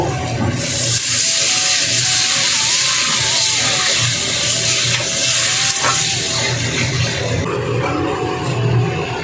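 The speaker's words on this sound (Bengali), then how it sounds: "আলু ভেজে রাখছি" Potatoes frying in a pan give a loud, steady sizzle and hiss from start to finish, with occasional stirring scrapes and no break in the sound.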